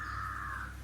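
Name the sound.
birds crying outdoors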